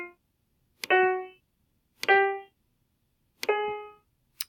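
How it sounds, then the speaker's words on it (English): Three half-step notes played one after another on a virtual keyboard, alternating white and black keys, with short gaps, each decaying quickly, close and clear with no speech. "to see it played on a virtual keyboard, here's the half steps."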